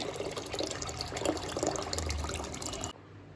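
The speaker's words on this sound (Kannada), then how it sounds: "ನಾನು 4 ಲೋಟದಷ್ಟು ನೀರು ಹಾಕ್ತಾ ಇದ್ದೀನಿ" About four glasses of water pour steadily into a cooking pot of rice and dal for about three seconds, a continuous splashing gush that stops abruptly.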